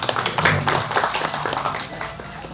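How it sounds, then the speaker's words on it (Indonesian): Scattered clapping from a small crowd at an Indonesian community arts event in honor of the Selut community, uneven and fairly close, with some taps and a faint voice mixed in. "Tepuk tangan untuk komunitas Selut"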